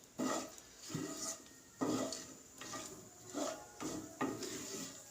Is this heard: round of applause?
no